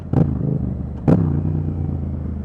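Close by, a motorcycle engine idles with a steady low rumble, broken by two sharp blips of the throttle, the second one stronger and followed by a throaty settling idle.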